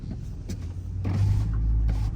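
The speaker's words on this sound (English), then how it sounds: "And I will have the windows down." Power windows on a Dodge Charger RT lowering partway as the car drives in eco mode, a steady electric whir rising over low engine and road rumble, with a brief motor burst early and a longer one midway.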